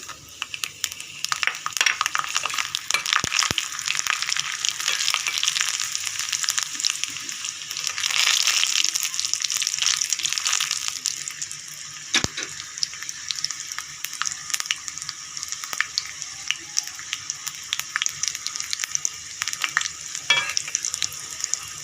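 Cumin and black cumin seeds fry in hot oil for a tempering, giving a continuous crackling sizzle that holds steady for about twenty seconds, close and fairly loud, with no talking.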